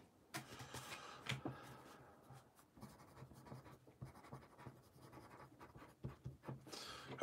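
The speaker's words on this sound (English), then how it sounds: "write myself a note." A pencil writes a quick note on paper, close scratchy strokes in short bursts with small pauses between them, no talk.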